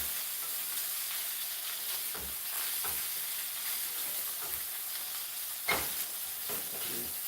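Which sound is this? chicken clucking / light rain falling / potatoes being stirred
potatoes being stirred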